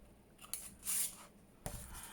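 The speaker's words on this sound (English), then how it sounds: "So I'll snip that off." Scissors snip through sticky brown tape, similar to masking tape, in a few quiet, crisp cuts spaced irregularly, close up and faint, with soft rustling between snips.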